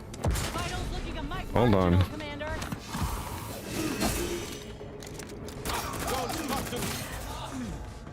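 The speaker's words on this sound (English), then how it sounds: "It is really hard to take cover when you're taking gunfire from 360 degrees." Gunfire coming from all sides in The Outer Worlds 2, scattered shots and clattering weapon mechanics layered under frequent speech and game voices, moderately loud and continuous.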